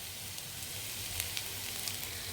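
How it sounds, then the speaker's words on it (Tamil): Beetroot, grated coconut and onion sautéing in a pan give off a soft, even sizzle with faint crackles and a few light taps, steady for a couple of seconds with no talking. "பீட்ரூட்டு தேங்காய் வெங்காயம் மூணு வணக்கிட்டுருக்கேன்"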